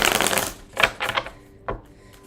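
A tarot deck being shuffled by hand makes quick, crisp riffling bursts of card noise, a longer run followed by a few short separate shuffles, close and fairly quiet.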